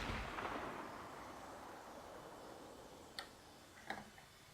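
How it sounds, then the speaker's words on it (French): Two sharp, distant sniper rifle cracks ring out about a second apart over a steady hiss of background noise in the video game WarZ. "Alors ça, c'était le bruit d'un sniper, qui est l'arme la plus rare du jeu."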